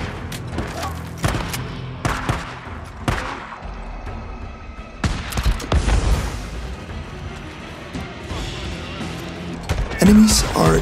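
The BNT 150 gun fires with explosive ammunition in the video game Days Gone, landing in loud, irregular bursts of sharp shots and heavy booms separated by short lulls.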